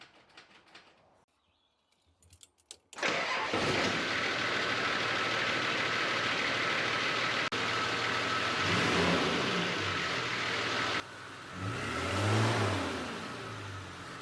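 After a quiet moment and a few clicks, a Nissan Patrol's TD42 diesel engine cranks and starts, then settles into a loud, steady idle that dips and swells slightly, with a bird faintly audible.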